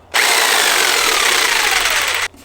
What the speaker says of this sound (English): insert my saw blade from my very dusty,